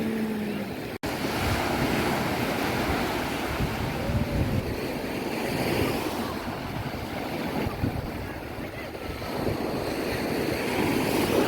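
Surf rolling and crashing steadily on a beach in Aceh, Sumatra, at sunset, a continuous broadband wash with gusts of wind buffeting the microphone.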